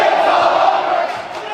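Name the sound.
basketball game crowd cheering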